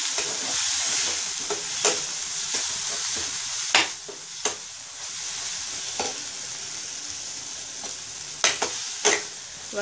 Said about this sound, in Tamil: வதக்கிடலாம். நல்லா வதக்கிட்டு